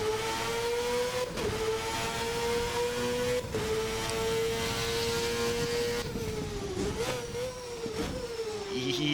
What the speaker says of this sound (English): That is the full fury of 980 horsepower going through a manual gearbox with obscene levels of boost pressure building.